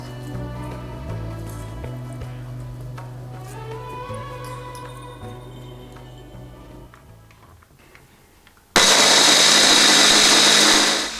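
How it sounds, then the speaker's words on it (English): A blender whirs loudly, blending ginger mush into a sauce for Bombay potatoes, starting abruptly after a stretch of quieter tonal background and running steadily at high speed to the end. "adding the mush to the blender."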